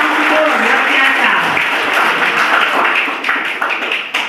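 Loud, dense applause from a school audience at a motivational event, continuous clapping that fills the whole moment with voices mixed in beneath it.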